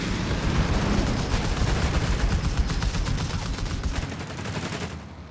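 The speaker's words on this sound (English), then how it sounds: "The Crusaders firing away, but not really doing much damage because of an upgrade." Crusader tanks firing in the WWII strategy game Company of Heroes 3, a dense, steady barrage of gunfire and rattling shots layered with distant booms, loud and continuous with no talk over it.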